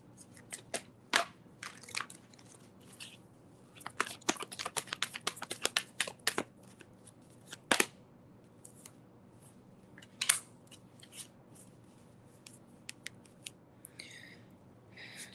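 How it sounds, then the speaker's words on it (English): Playing cards are shuffled at close range in quick bursts of sharp, crisp riffling snaps, with a few pauses between bursts, quiet overall with no talk. "To make sure I get a good shuffle going on here,"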